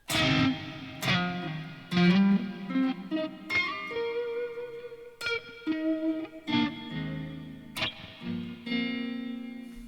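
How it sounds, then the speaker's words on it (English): Electric guitar notes and chords ring out with heavy reverb, each plucked note trailing off into a long washy tail. "So that's all reverb, but it sounds more like an echo."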